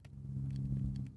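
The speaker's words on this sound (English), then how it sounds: "Loud car." A loud car rumbles past at a distance, a low engine drone swelling and easing over about a second, with faint clicks on top.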